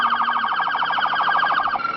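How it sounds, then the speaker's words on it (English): A police siren wails in a fast, steady warble, loud and close, sounding alone for two seconds. "Police sirens sounded."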